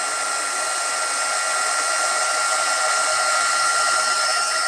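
A heat embossing tool blows hot air steadily onto a stamped card, a loud continuous whirring hiss with no breaks throughout.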